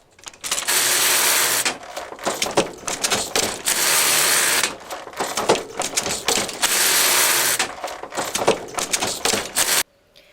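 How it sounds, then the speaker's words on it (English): A hand-operated framework knitting machine with a second row of needles for lace runs up close, clattering in long loud mechanical passes broken by shorter rattling strokes and clicks. "this particular machine, Martin has a second row of needles"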